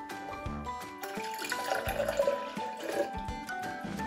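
Water poured into a jug of sugar-free orange cordial in a kitchen, a continuous splashing, gurgling stream that swells and wavers over a few seconds, close and fairly loud.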